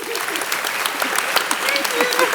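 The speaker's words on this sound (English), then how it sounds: "Keep clapping. Keep clapping." An audience at a university graduation ceremony claps loudly and continuously, a dense wash of applause with a few cheers mixed in.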